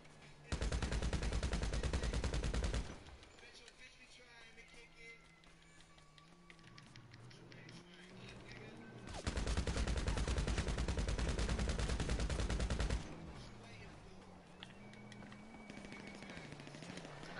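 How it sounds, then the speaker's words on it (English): A 200-round video game gun unleashes two long, dense bursts of rapid automatic gunfire, loud and continuous, separated by a quieter stretch of game sounds and tonal effects. "That new gun I was talking about that shoots 200 rounds."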